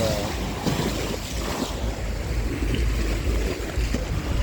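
Waves lapping at a lakeside campsite in İznik, a constant near wash of water mixed with wind buffeting the microphone, no speech.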